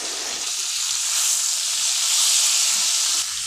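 Bajji chillies sautéing gently in a covered pan give a steady, soft sizzle and hiss that swells slightly midway, close and continuous with no voices.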